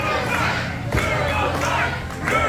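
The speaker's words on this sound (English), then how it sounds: "The crowd getting behind him." A wrestling event crowd roars and cheers in a loud, steady wash of voices with a few shouted cries and thuds, sustained throughout.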